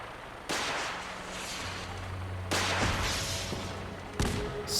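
Vertibird missiles launching in Fallout 4, heard as three sharp broadband blasts with long rumbling tails, fairly loud over a low engine drone.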